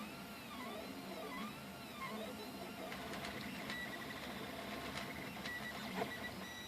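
A 3D printer runs a test print on frosted glass, with a steady mechanical whir and stepper-motor whine rising and falling in pitch, plus scattered faint ticks, at a fairly low level.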